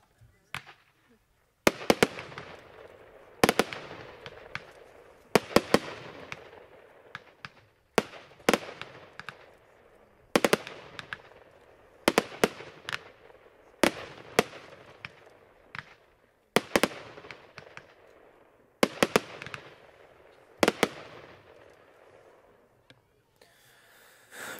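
Repeated bursts from an Ice Sphinx firework fan battery in a three-way fan, fired in rapid clusters of sharp cracks with whooshing launches, recurring every couple of seconds across the whole stretch.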